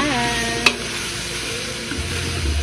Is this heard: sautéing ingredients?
yes